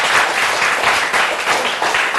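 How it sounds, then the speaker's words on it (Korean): Students at a school admissions session clap together in a loud, close round of applause that stays steady throughout the short burst. "우리 박수 한번 칠까?"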